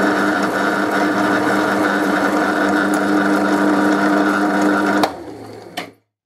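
A lathe cuts a 0.8 module gear hob with a loud, steady mechanical whir and hum that runs continuously, then abruptly winds down and stops near the end.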